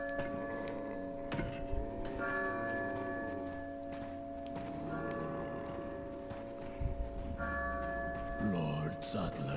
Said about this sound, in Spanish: Oh, la campana. Es hora de rezar.